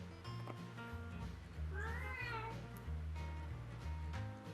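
A hungry cat at dinner time lets out one clear, rising meow, with a couple of softer calls nearby, heard over quiet background music.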